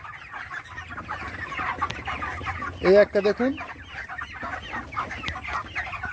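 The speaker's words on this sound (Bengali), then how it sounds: "এই দেখুন দুটো মুরগি বসে আছে পরপর" Hens clucking in a poultry farm shed, a cluster of several close clucks standing out mid-clip over a steady background of other birds, with someone talking throughout.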